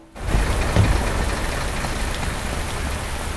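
A car engine in the Indian Theft Auto game starts up and runs at a steady, close idle rumble, with no one talking over it.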